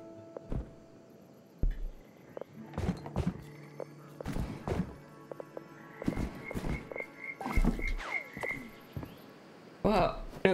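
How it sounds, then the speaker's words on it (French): Frog croaks in the gardening video game Garden Life, scattered among clicks, thuds and other game sounds, with a voice talking over them at times. "Waouh, la grenouille, on l'a bien entendu."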